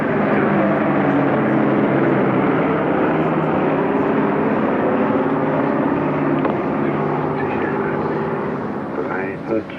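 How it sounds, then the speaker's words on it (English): Steady droning roar of airplanes flying into Tempelhof airport, a continuous engine hum that holds for several seconds at a constant level before easing slightly at the end. "I count the planes that come to Tempelhof."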